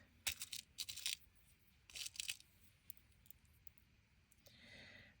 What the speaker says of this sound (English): Let's get some beads.